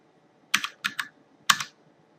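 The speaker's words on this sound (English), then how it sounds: "and then typing out the elevation" Computer keyboard typing while entering elevation values in excavation software: four quick bursts of keystrokes, close and crisp, separated by short pauses, with no talking.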